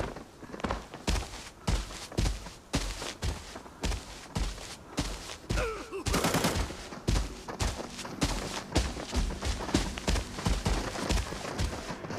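Rapid bursts of gunfire in the video game Arena Breakout crackle in quick succession, with dense overlapping shots and running footsteps filling the scene.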